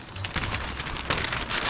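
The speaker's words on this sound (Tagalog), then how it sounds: "Sana lakas pa yung ulan na yan" Heavy rain falling, a dense, continuous patter of drops on surfaces, loud and close, with no voices.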